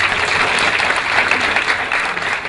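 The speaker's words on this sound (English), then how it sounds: "please help me welcome with a warm round of applause" Dense applause from a seated audience at a women in oil and gas business event, steady and even throughout as a speaker is welcomed to the stage.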